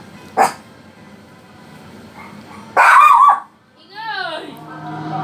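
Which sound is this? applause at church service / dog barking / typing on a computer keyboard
dog barking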